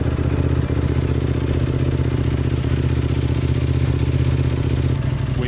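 A vehicle engine idles steadily while warming up to temperature, holding a loud, continuous, even rumble with a mechanical clatter throughout and no change in revs.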